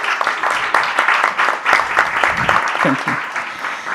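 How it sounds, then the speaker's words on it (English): Audience at a panel discussion on digital colonialism breaks into warm applause for a speaker, dense clapping throughout while a voice briefly speaks over it. "And give her a warm round of applause,"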